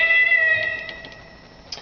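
A Lowrey Virtual Orchestra EZ4 electronic keyboard sounds a synthesized meow once, a tonal cat-like note that fades out over about a second and a half, ending with a faint click.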